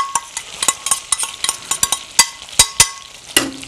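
Onions being added to a pan for sausage gravy, with a string of sharp close clinks and scrapes of a utensil against the pan at an irregular pace, then a short soft burst of sizzle at the end.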